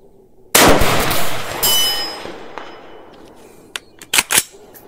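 A shot from a Kalikey bolt-action AR-style rifle cracks loudly with a ringing metallic tail as the round hits a steel target, followed by a few fainter sharp clicks and knocks.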